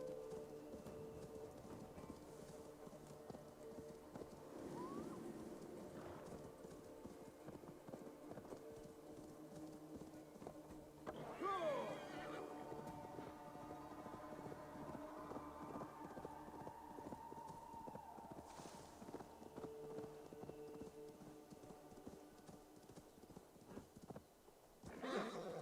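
A horse in Assassin's Creed Valhalla clip-clops along in an even, unhurried rhythm over a long stretch, with a sudden loud whinny rising in the middle and softer movement sounds around it.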